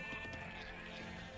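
Sheep bleating in the Age of Empires II video game, a single clear bleat standing out over a steady layer of game background sound, with no talk.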